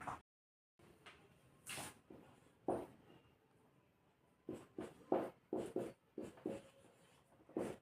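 Pen or chalk strokes while writing profit and loss percentage formulas by hand, a series of short scratchy bursts in irregular rhythm, close and faint, after a moment of silence.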